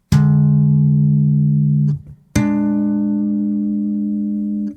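Electric bass sounds two long, buzzing sustained tones built on dissonant tritone intervals, loud and close, the first note held for about two seconds before a short break and a second held note.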